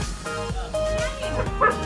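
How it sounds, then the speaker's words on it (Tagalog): A house dog at home barks several times in quick, close yips with a whimpering edge, mixed with household background noise and a faint tone. "Oh, tumatahol eh."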